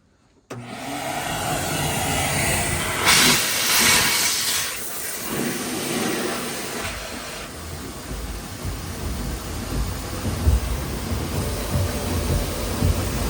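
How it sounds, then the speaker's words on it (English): A steady, loud rush of air blown by a vacuum through a boat's water line during winterizing, running continuously, with bursts of hissing and gurgling water partway through. "So just switch your hose, that way it's blowing air out, and we'll blow this water down in there."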